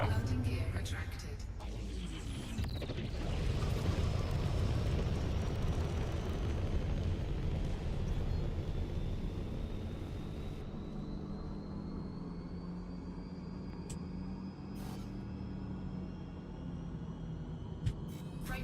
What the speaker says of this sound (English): Commence departure. Landing gear retracted.